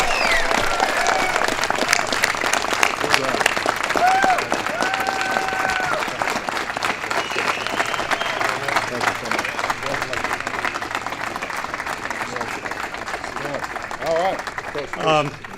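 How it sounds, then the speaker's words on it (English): An audience gives a sustained round of applause for the Super Bowl champion Denver Broncos at a White House ceremony, with dense clapping that stays steady and slowly thins toward the end. "So please give one more time Super Bowl champion Denver Broncos."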